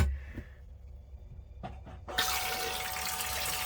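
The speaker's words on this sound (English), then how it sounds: "ta-da! Flushing dunny." An old caravan toilet flushes, a few faint clunks followed by a sudden steady rush of flowing water that continues to the end.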